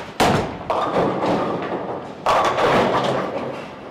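A bowling ball strikes the pins on a lane, given as a TNT ball: two loud, close crashes, one near the start and one about two seconds later, each ringing briefly with clattering decay.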